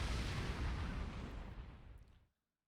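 A bomb explodes in Super Bomberman R Online with a single loud, close, booming blast. Its heavy rumble fades over about two seconds before cutting off to silence.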